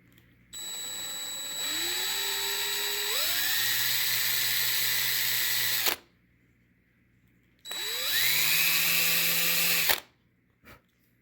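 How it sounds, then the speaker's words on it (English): A large power drill bores into the plastic torso of a Marvel Legends action figure, whining loudly in two sustained bursts with pitch rising as it spins up, separated by a brief pause. "Let me get out my stupid huge drill."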